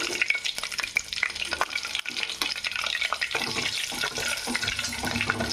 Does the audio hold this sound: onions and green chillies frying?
yes